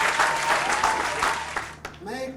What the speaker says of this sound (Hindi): विनोद जी का जोरदार स्वागत हो तालियों से